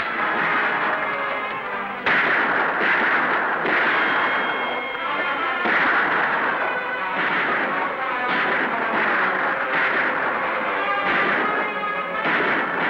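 Sustained gunfire from a 1955 Western TV series, Buffalo Bill Jr., during a fight with attacking Indians: a dense, continuous barrage of shots and bursts, loud and steady for the whole stretch, with tonal soundtrack elements layered through it.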